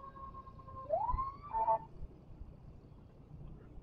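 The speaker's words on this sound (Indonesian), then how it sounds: "Udah bunyi sirine ini biasanya" A brief police siren wail rises and dips, fairly faint and distant, over quiet road background on the Puncak highway.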